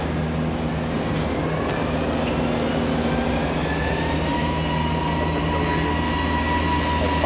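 A Mazak vertical machining center runs with a steady mechanical hum and whir, giving a constant, close drone with faint high tones and no speech.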